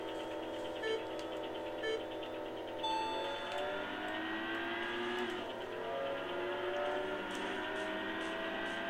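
A tuned car's engine in the Import Tuner Challenge racing game accelerates steadily, its revs climbing and dipping through gear changes, with game sound effects and a faint hum behind it.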